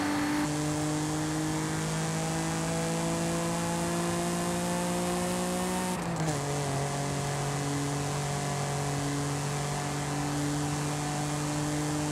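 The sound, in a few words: twin-turbo Audi car engine accelerating, from video game Forza Horizon 5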